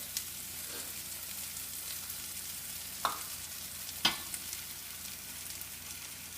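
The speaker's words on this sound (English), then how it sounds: "now we're gonna put the egg whites in here" Egg whites sizzle in a frying pan for an omelet, a soft, steady frying hiss broken by a few sharp scrapes and taps of a utensil against the pan.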